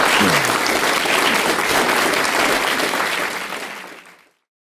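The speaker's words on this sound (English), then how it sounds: "Can we get a round of applause for our panelists?" Sustained audience applause for a classical-education panel discussion, a dense wash of many hands clapping loudly for about four seconds before quickly dying away to silence.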